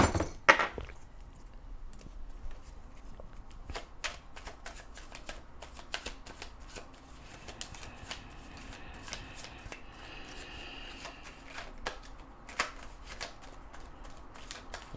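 Oracle cards being shuffled by hand, a steady run of soft riffling flicks and snaps, close and fairly quiet, with a few sharper clicks and no talking.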